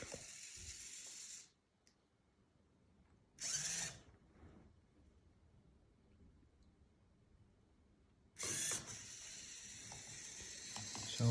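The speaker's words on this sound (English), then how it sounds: "And it just runs a cycle from center to full left, full right," Small servo motors on an Arduino-controlled Mars rover-style robot steer through a cycle, giving short whirring bursts separated by near silence, faint and close, with no voices.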